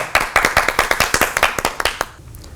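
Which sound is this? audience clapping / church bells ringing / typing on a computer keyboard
audience clapping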